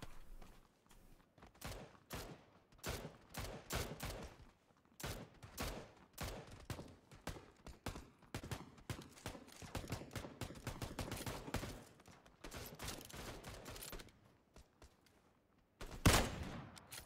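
Rapid bursts of gunfire in the battle royale video game PlayerUnknown's Battlegrounds, set among big-map buildings, with loud shots fired in dense clusters and short pauses for about fifteen seconds, ending in one sharp, heavy blast.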